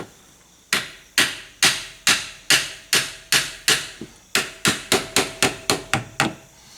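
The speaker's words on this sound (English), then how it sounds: "That's why we got a hammer." A hammer strikes a metal sight rail on a 10/22 rifle about fifteen times, sharp ringing taps at a steady pace that speed up toward the end, close and loud.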